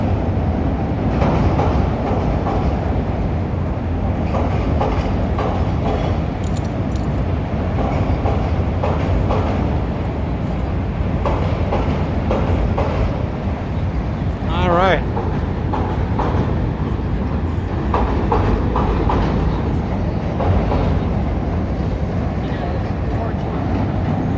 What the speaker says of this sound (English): Look at the train, the river, another train coming this way.